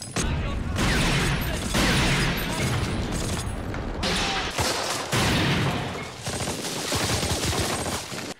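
Cannon and gunfire from a Band of Brothers war scene, a dense sustained barrage of heavy booms and rattling shots with brief gaps, loud and close throughout.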